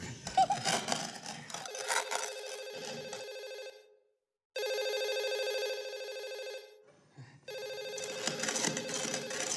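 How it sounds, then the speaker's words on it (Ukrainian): A telephone rings in loud, steady electronic bursts separated by brief pauses, with some muffled background noise between the rings. "хтось телефонує"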